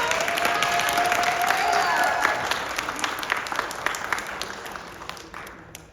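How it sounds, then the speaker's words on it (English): A crowd at a steampunk convention tea-dueling finale applauds warmly, with some cheering and voices mixed into the clapping, which peaks early and then tapers into scattered claps. "A round of applause for Lisa."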